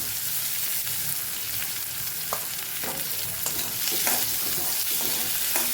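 Ivy gourd and chilli pieces sautéed in oil, a steady close sizzle with repeated scraping and tapping of a spoon stirring the pan, no talking.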